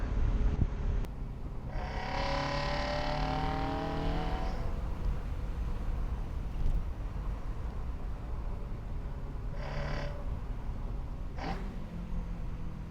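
A Ferrari F355 GTS V8 on the road: a rising run through the revs early on, then a steady cabin drone with two short upshift-like surges late, close and continuous, no talking.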